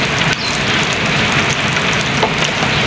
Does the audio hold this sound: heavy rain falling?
yes